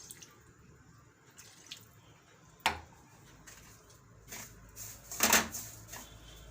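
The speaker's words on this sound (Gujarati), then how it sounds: "આપણે આ ખાંડ નાખી દેવું થોડુંક આપણે પાણી નાખીશું" Water poured into sugar in a pan for rava mava barfi: a quiet room hush, a sharp clink, then a brief close splash and trickle building near the end.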